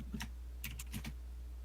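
Quick bursts of keystrokes on a computer keyboard, faint and somewhat distant over a steady low electrical hum, with a short pause between two clusters of taps.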